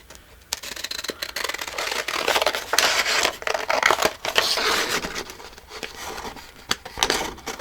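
Scissors cut through paper while working on an altered book journal, a close run of crisp snips and crinkling rustles that continues steadily with no talk.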